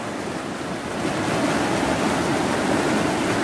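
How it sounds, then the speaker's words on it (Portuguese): A loud, steady rush of falling water from a full waterfall, the Cachoeira da Ema, roars continuously and grows slightly stronger partway through. "Dizer que a cachoeira tá cheia, tá bonito."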